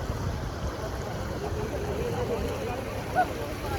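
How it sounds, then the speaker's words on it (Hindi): Floodwater from the Shivnath river rushes fast across a paved main road in a low, continuous broadband roar. It is steady and moderately distant throughout, with faint background sounds mixed in. "ये सड़क में जो है पानी काफ़ी तेज बहत है"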